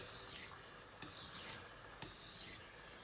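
A kitchen knife drawn across a whetstone in three even, rasping strokes about a second apart, each a short gritty scrape, close and quiet with no talking.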